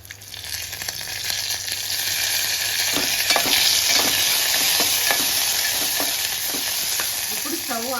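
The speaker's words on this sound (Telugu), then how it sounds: "ఇప్పుడు దీంట్లో కరివేపాకు యాడ్ చేసుకోవాలి" Curry leaves crackling in hot oil with chillies, a dense sizzling hiss that swells and stays strong, with scattered spattering pops close by and no one talking.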